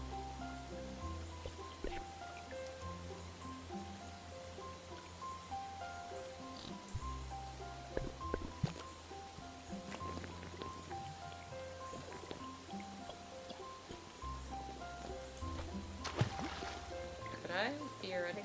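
A waterfall in the video game Chicory: A Colorful Tale rushes steadily as a constant watery hiss and patter, with soft game music tones over it throughout.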